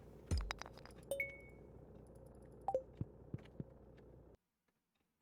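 Glassy clinks and chimes from geodes being cracked open in Stardew Valley, a few sharp hits with short ringing tones over a soft hum, then silence.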